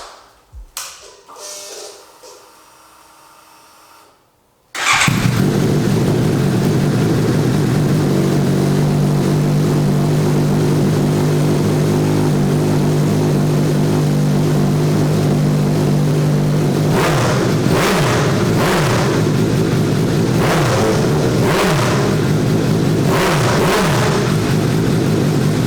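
Naked motorcycle starting up with a burst of ignition, then a steady loud idle with a deep, even rumble, followed by several sharp throttle revs rising and falling near the end, heard close up.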